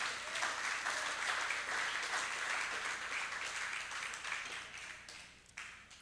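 Sustained applause from a congregation at a Christian faith crusade service, a dense, steady wash of many hands clapping that thins slightly near the end.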